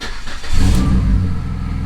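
A PT Cruiser race car engine cranks briefly and then catches, settling into a close, steady low rumble with no talking.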